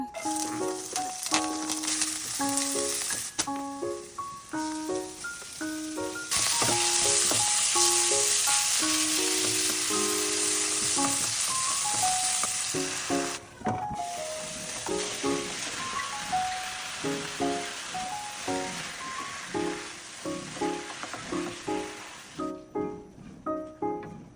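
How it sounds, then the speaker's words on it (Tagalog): Chopped vegetables sauté in a pan with onion, garlic and ground meat, a soft, steady sizzle that swells in the middle and carries under cheerful melodic background music throughout. "igigisa ko lang din to sa sibuyas at bawang na merong giniling"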